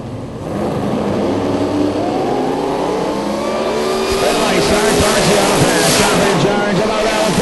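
Supercharged drag cars, one with a ProCharger and one with a Roots blower, roar down the strip at a nationals event. Their engines hold a loud, sustained drone that rises in pitch as they pull away, over the crowd ambience.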